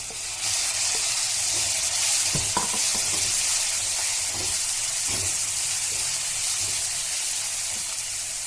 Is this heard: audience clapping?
no